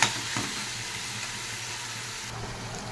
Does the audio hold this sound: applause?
no